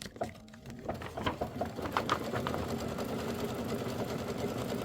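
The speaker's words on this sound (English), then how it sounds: "I am going to do the placement stitch for the batting" A Kimberbell embroidery machine runs a placement stitch for batting, its needle hammering in a fast, steady mechanical patter with a whirring motor, close and continuous with no talking.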